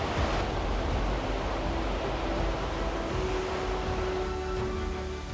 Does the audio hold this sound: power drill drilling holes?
no